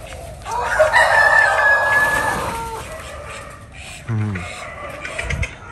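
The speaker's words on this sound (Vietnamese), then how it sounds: "Đây là những bạn gà trống nè, nhà nuôi mấy gà, nuôi lấy trứng." Roosters kept on a home egg-raising plot crow loudly nearby, one long crow followed by shorter calls and clucks, with a voice talking underneath.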